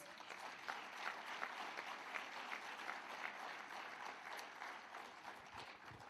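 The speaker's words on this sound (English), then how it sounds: "the Deputy Minister deserves a round of applause for this" Audience applause for a Deputy Minister at a public works contractor development roadshow in Kimberley, a sustained, faint spread of clapping from a crowd.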